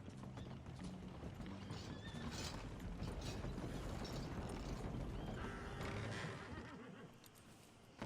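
Horse hooves clip-clop steadily in Red Dead Redemption 2, with an occasional whinny over a busy ambient game soundscape; the hoofbeats hold at moderate loudness throughout and fade toward the end.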